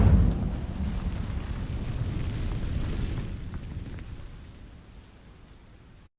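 Incendio fire spell in Hogwarts Legacy, setting dry vines ablaze: a loud burst of flame at the start that becomes a roaring, crackling whoosh and slowly fades over several seconds, with no talking.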